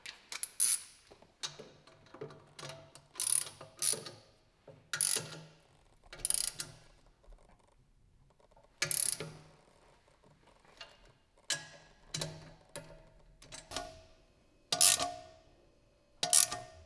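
A socket wrench ratcheting in short bursts during a turbo kit install on a Toyota Supra, crisp clicking strokes separated by pauses, close and without talk.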